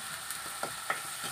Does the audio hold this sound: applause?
no